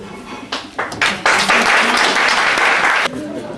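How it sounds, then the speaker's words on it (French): Applause from an audience at a Brussels book launch greets poet Christian Lévaux, clapping swelling in bursts and then holding loud and dense for a couple of seconds before easing, with some voices mixed in. "je vous prie de l'applaudir"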